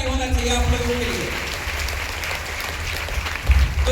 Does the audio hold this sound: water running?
no